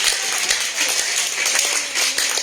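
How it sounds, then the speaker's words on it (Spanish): Church congregation at a Spanish-language service applauds in a dense, steady burst of clapping that fills the room for a couple of seconds. "Dale un aplauso."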